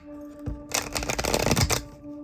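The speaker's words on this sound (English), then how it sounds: "I like to do a quick little shuffle." Tarot cards shuffled by hand in a quick riffle, a dense burst of papery flutter lasting about a second, close and clear over a steady faint background hum.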